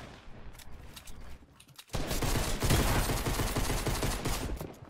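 Gunfire in a shooter video game: scattered shots at first, then a loud, dense stretch of rapid automatic fire and bursts.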